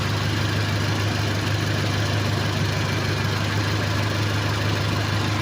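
A Toyota Innova engine idles after repair with a steady, even low rumble and no knocking or surges, running close and continuous with no talk over it.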